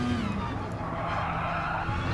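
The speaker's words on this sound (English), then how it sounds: "Should hear the engine revs lift and the engine bog down under the load." Peugeot RCZ Gr4 race car at Monza in Gran Turismo Sport, engine droning steadily under load with its pitch shifting slightly, mixed with tire scrub, close and continuous.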